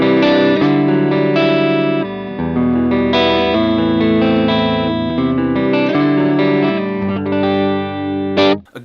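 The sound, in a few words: electric guitar neck pickup through HX Stomp AC30 Fawn amp model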